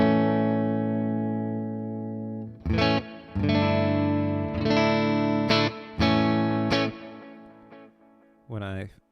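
Electric guitar through the Neural DSP Morgan Amp Suite plugin's Princeton amp with its volume pulled down: a ringing sustained chord followed by several quieter, slightly distorted strummed chords with pauses between them, ending in a short bent note.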